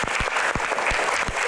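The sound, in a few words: audience applause for podium box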